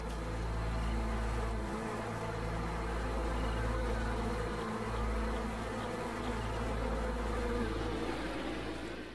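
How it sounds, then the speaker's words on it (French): A honeybee swarm buzzes inside the hive in spring, making a dense, continuous drone that stays loud and steady throughout. "À l'intérieur, l'essaim s'active en prévision de l'été."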